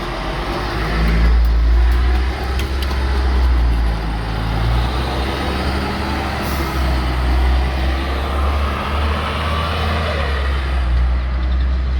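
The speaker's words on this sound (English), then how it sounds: "This is a Mercedes-Benz O405NH, fitted here with a custom Coaches 550 body" A Mercedes-Benz O405NH bus with a Custom Coaches 550 body drives along, its engine a steady loud low rumble with road noise throughout, no talk.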